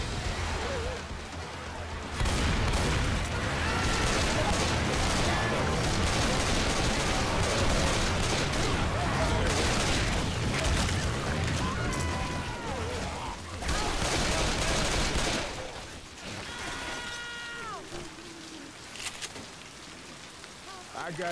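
Assault rifle gunfire rattles in dense, rapid bursts in the Left 4 Dead 2 video game, alongside steady rain, as voices talk briefly in the later stretch.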